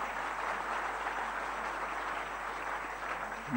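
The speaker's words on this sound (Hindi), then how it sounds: "तालियों की गड़गड़ाहट के साथ स्वागत।" Steady audience applause rises in an assembly hall at a Madhya Pradesh youth and sports ministry event, a continuous moderately distant wash of clapping with no talk.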